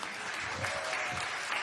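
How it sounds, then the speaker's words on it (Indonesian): Dense, sustained clapping from a church congregation applauding after a testimony, a steady wash of many hands at moderate distance with no voices on top. "Tepuk tangan yang meriah bagi Tuhan Yesus"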